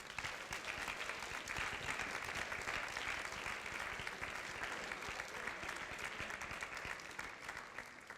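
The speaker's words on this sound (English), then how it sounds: "if you could please give your parents, grandparents, and family friends a round of applause." Students at a National Honor Society induction ceremony applauding their parents and families, a continuous, even clatter of many hands heard somewhat distant and soft for the whole stretch.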